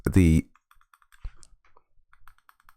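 Buttons on a repaired AYN Odin Pro handheld gaming device click in small, sharp taps spaced unevenly across a few seconds, close and fairly faint, after a brief loud burst of voice at the start.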